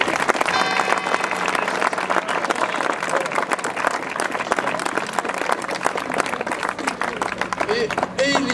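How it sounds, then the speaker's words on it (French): A crowd applauds at the inauguration of a village square in Le Reposoir, with continuous clapping throughout and scattered voices mixed into the steady clatter. "ça mérite les applaudissements tout de suite"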